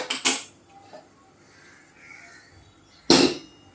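A metal pan set down on a lit gas stove, two quick clanks at the start and another sharp clatter later, close, with quiet stretches between.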